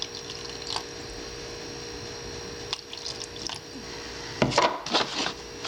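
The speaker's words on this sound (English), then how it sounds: "I'm just gonna put a little bit of water in here, not a whole lot" Small splashes of water are poured into a baking pan in short bursts, with a few faint drips and clinks early, then louder splashing near the end.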